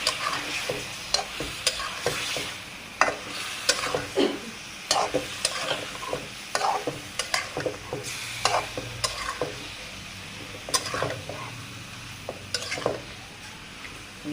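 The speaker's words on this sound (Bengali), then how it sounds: "মাছগুলো একটু কষায় নেব।" Large prawns sauté in a frying pan of spice paste, a steady sizzle under repeated scraping and stirring strokes of a utensil against the pan, close and continuous with no talking.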